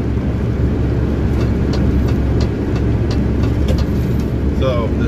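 A truck engine drones with a low steady rumble while overtaking on a European road, loud and continuous through the whole stretch with no break.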